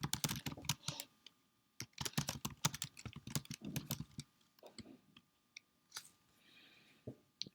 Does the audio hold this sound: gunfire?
no